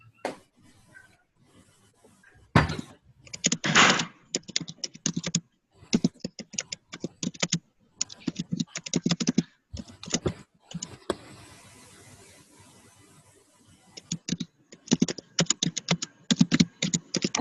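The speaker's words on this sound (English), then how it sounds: "I hear furious typing" Furious typing on a computer keyboard comes in rapid bursts of clicking keystrokes, with short pauses between flurries, close and fairly clear over a quiet background.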